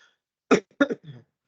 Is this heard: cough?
yes